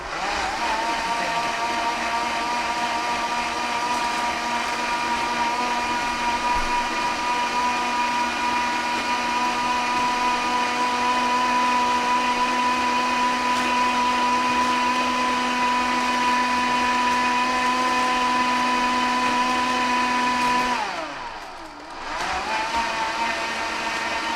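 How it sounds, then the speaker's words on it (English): A Vitamix blender runs loud and steady with a constant motor whine, then briefly dips in pitch near the end before recovering, with no talking over it. "And then you just blend it up. You can do this in your Vitamix."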